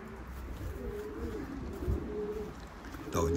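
Young racing pigeons in a loft, giving soft low cooing calls in repeated rolling phrases close by, with a brief sharper noise near the end.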